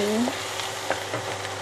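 Galangal and spices sizzle steadily in hot oil as they are stir-fried for a shrimp curry, with soft scraping stirs and a brief voice at the start.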